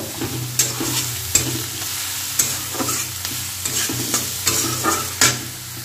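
Onion, garlic, ginger and green chillies fry in a pan with a constant close sizzle, punctuated by regular scraping stirs and soft clinks roughly every second.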